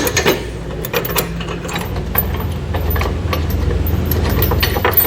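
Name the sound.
bolt being threaded into Westin nerf bar tube step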